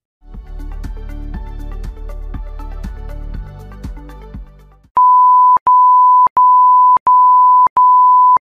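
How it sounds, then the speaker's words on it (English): A computer's BIOS speaker sounds a run of loud, evenly spaced long electronic beeps signalling failed or undetected RAM, following a few seconds of low, dense musical tones. "Continuous long beep,"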